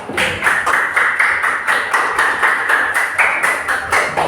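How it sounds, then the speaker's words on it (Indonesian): A small group in a classroom-style session applauds a presenting group, close, fairly loud clapping in a steady pulsing rhythm throughout. "Tepuk tangan untuk kelompok 4"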